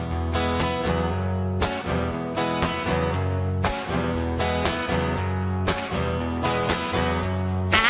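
A full band plays a song live in Paris, with strong, repeated rhythmic hits and sustained chords, loud and steady throughout, no singing evident.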